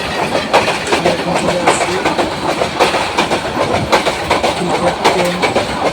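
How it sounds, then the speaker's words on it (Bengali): A train rolls through a railway station in heavy rain, its wheels beating a loud rhythmic clickety-clack. Someone speaks briefly over it. "এখানে ট্রেন যাচ্ছে"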